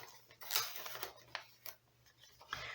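Paper being cut out with scissors for a handmade 3D christening keepsake folio, a few short snipping cuts spaced irregularly, close and fairly quiet.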